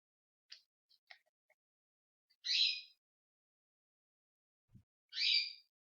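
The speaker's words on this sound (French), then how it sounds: "entend les merles dehors" Blackbirds call outdoors, heard as two brief chirping notes spaced a few seconds apart with a few faint ticks between them, distant and sparse against near silence.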